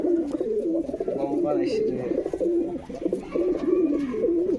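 Pigeons kept for sale coo continuously after being let out of their cage, a steady low warbling that is close and fairly loud, with some faint background talk.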